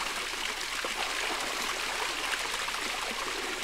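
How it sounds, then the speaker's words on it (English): A stream runs over rocks in hilly outdoor country, a steady close babbling and trickling of water that fills the whole stretch without pause and with no voices. "It was great to see water running in this place again"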